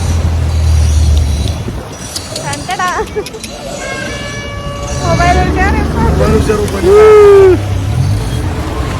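A motorboat carries a family on a river outing, its engine droning low beneath steady close chatter and a brief horn-like toot near the end.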